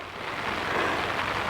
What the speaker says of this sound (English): Full of mist, full of rain,